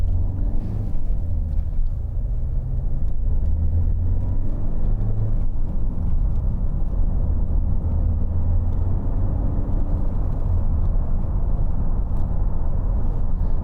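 2011 Ford Mondeo 2.0 TDCi Zetec five-door diesel driving on the road, heard from the cabin as a continuous low engine and tyre rumble with a slight rise and fall in pitch.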